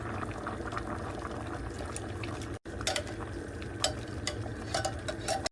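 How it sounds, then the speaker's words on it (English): Canned coconut milk is poured into a pot of simmering sweet rice and beans, giving a continuous close liquid gurgle and bubbling with a brief break midway. "Add 2 cans of coconut milk."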